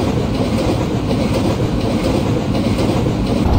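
A local MEMU train rolls along in Train Simulator 22, giving a steady, loud rumble of wheels and carriages with a continuous clickety-clack rhythm and no voices over it.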